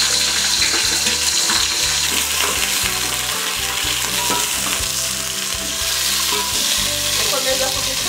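Eggplant pieces frying in oil in a covered-then-stirred pot, a loud, dense, continuous sizzle close up with scraping stirs underneath and no talk.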